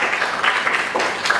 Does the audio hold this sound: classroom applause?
yes